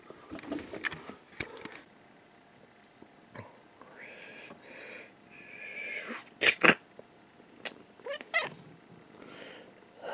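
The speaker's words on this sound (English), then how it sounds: "Oh my, there's a cat in here." A cat heard indoors gives soft, drawn-out meows and small breathy sounds, interrupted by a few sharp clicks and knocks, with a quiet whispering voice in places.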